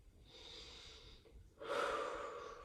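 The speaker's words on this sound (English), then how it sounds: "Breathing out into this stretch." A long exhale during a Pilates stretch, heard as two soft, airy breaths: a fainter one first, then a louder, fuller outbreath close to the microphone.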